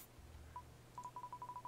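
KakaoTalk notification chimes from a PC sound during an Undertale dubbing session: a single short electronic beep, then a quick run of about eight evenly spaced repeating beeps, faint and with no talk.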